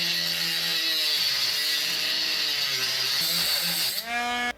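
A Dremel rotary tool cuts a slot into a metal tube for a fishing jig: a steady, loud high-pitched whine with shifting droning tones as the load changes, stopping abruptly at the end.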